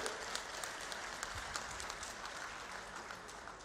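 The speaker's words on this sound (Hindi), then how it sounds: "एक बार जोरदार तालियां बजाकर आप सब लोग स्वागत करेंगे" Faint, distant applause from a crowd at a political event in Dehradun, a steady wash of clapping that carries on evenly throughout.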